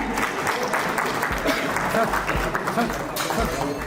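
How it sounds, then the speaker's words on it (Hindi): An audience claps loudly and continuously at a Kurukshetra award ceremony honoring teachers and doctors. The dense applause holds at an even level from start to finish. "आप जोरदार ताली जरूर बजाएं"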